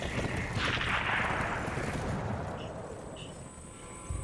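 A gunshot in the Attack on Titan 2 video game during a forest mission cracks out as one heavy blast, then fades into a long, rumbling decay.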